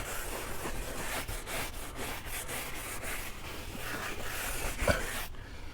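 Leather car seat scrubbed with a brush and Adam's leather cleaner, a steady close-up rubbing hiss that goes on throughout in repeated short strokes, with no voices.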